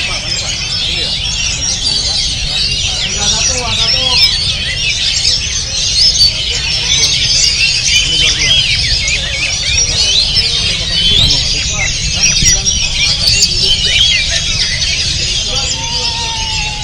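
A kacer (oriental magpie-robin) sings at a bird contest, bright rapid chirps and whistled phrases running continuously over a busy crowd with people talking underneath and other birds calling nearby.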